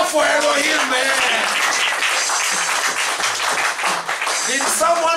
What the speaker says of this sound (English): Clap for Elohim, man.